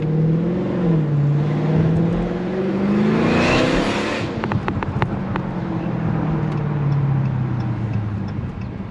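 A car engine revs up strongly while driving, pitch climbing through the gears, then a sharp shift with a brief burst of crackle before the note settles and drops back, loud and close from inside the cabin.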